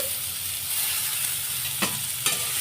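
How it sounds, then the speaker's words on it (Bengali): Capsicum and onion with chopped green chilli fry in a pan with a steady sizzle, broken by two sharp spatula scrapes near the end. "তারপরে আমি ক্যাপসিকাম আর পেঁয়াজ একসাথে দিয়ে দিলাম"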